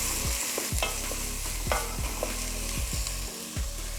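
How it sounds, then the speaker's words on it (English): Onions frying in plenty of oil in a pan, cooked down toward caramelization, with a steady close sizzle broken by repeated stirring scrapes and clacks of a utensil, no voices. "get that browning, gorgeous caramelization of those onions"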